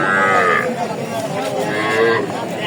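Sahiwal cattle low loudly at a crowded livestock market in Dinajpur, with two long moos close by and a busy murmur of voices and animal noise throughout.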